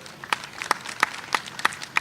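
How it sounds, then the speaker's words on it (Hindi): Faint, steady handclaps at a cobblers' conference in Bhopal, with single claps landing at an even rhythm about three times a second over a quiet room. "उनका भी ताली बजा के आप स्वागत करें"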